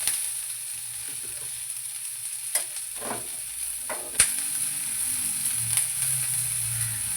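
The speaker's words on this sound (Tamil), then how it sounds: "வெங்காயம் நல்லா ஃப்ரை ஆகணும், அப்போ தான் குழம்புக்கு டேஸ்ட்டு நல்லாயிருக்கும்." Small onions frying in oil for a curd masala curry, a steady close sizzle with a few scrapes and knocks of a stirring spoon, and no talking.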